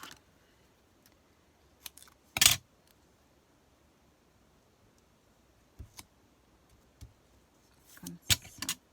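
Scissors snip paper for a 3D kiosk model, a few sharp isolated cuts close by with quiet gaps between, the loudest burst early and a quick cluster near the end.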